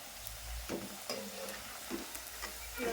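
Pakoda fritters frying in hot oil give a steady, soft sizzle throughout, with a few light clinks and scrapes as they are turned in the pan; no voices.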